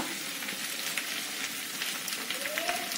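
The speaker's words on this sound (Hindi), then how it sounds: "देखिए मेरा ऑयल गर्म हो चुका है इसमें मैं डालूँगी एक स्पून ज़ीरा" Cumin seeds sizzling in hot oil in a pan while cooking a restaurant-style jackfruit curry, a steady, close crackling hiss with faint stirring.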